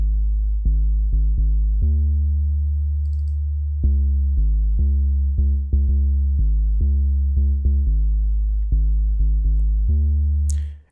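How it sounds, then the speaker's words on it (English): A deep, subby sine bass from the Thor synthesizer plays an unquantized line in a deep house track, with short plucked notes separated by gaps and a few longer held tones. It is clean and steady, with no voice. "I used the sine bass using Thor."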